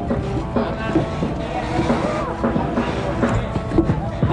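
A small motorboat ride in Krabi with steady engine hum and wind buffeting the microphone, water noise throughout, faint voices underneath.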